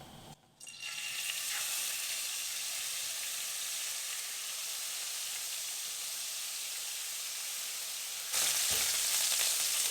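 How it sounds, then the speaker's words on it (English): Ginger garlic paste frying in a hot pan of oil, a loud continuous sizzle that flares even brighter near the end, with no talking. "next we're going to add the ginger garlic paste"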